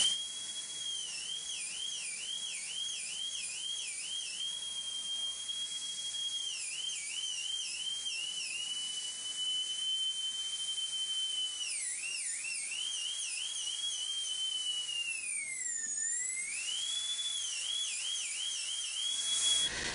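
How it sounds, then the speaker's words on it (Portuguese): A rotary drill bit grinds marble for inlay work with a steady, piercing high whine that runs for the whole stretch, its pitch dipping and wavering as the bit presses against the stone. "e encosta a broca de encontro à lateral, mas sem sair do que já está desenhado"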